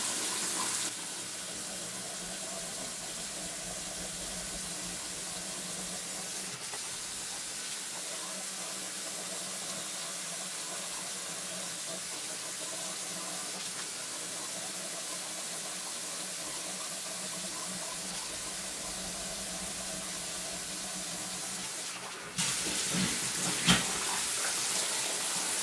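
A bathroom tap runs lukewarm water for shaving, a steady soft hiss that continues unbroken, then briefly grows louder and splashier near the end.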